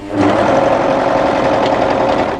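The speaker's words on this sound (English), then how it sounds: "I like to do as much as I can on the overlocker" An overlocker stitches a pocket seam on a winter tee dress, a steady close mechanical whir with fast rhythmic needle chatter running unbroken and loud from start to finish.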